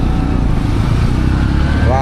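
A motorcycle rumbles along the streets of Kampala, a steady close engine drone mixed with rushing wind noise, with a faint vehicle horn near the end.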